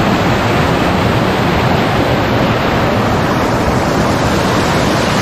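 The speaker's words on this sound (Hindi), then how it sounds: "कितना मस्त वाटरफॉल है ऐसा देखो" A mountain waterfall with hillside water streaming down near Takmak Fort in Virar, giving a steady, loud, dense rush of falling water that stays constant throughout with no voices.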